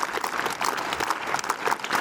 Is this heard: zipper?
no